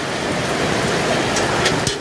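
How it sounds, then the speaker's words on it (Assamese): Heavy monsoon rain pours steadily onto a flooded street in Nalbari town, Assam, during the 2024 floods: a dense, continuous wash of close rain noise with a few brief, brighter splashes near the end and no voices. "চাওক কি লেভেলত বৰষুণ দিছে এনেকৈ"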